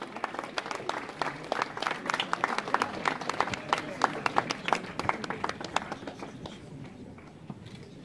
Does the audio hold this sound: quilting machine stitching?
no